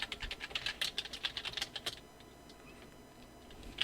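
Rapid clicking keystrokes on a computer keyboard while entering text in Photoshop, a quick close burst for about two seconds, then near quiet with a few faint taps.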